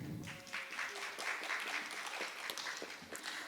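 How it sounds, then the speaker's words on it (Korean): Applause from the audience welcomes the speakers at a 2023 Gyeonggi Province symposium on foreign resident policy. Steady, moderately distant clapping fills the whole stretch. "큰 박수로 맞아주시기 바랍니다"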